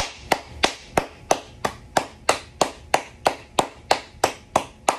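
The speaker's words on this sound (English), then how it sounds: "Clap it up again." Steady, evenly paced hand claps, fifteen or so crisp close smacks in a regular rhythm, with no talking.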